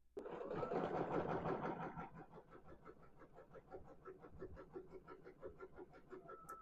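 An embroidery machine stitching a quilt block, a fast rhythmic mechanical whir and needle patter, louder at first then settling into a steadier, softer pulsing run, close by with no voices.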